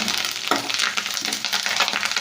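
Loud, steady sizzling and crackling of curry leaves frying in hot oil as a tempering, with stirring noises and no talking.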